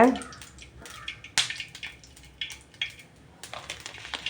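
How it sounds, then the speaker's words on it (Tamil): Mustard seeds crackle in hot oil in a pan while cooking lemon rice, with scattered sharp pops and sizzles, close and irregular, over a faint hiss. "நல்லா கடுகு பொரிஞ்சிடுச்சுங்க"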